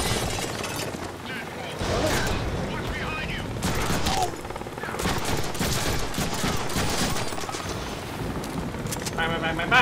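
Rapid bursts of video game gunfire crackle through much of the clip, dense and loud, mixed with game effects and talk over the top.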